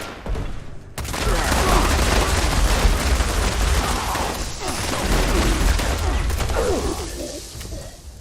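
Sustained gunfire in Fallout 76 as shots punch through floors, a dense, loud barrage running almost without pause after a brief opening gap.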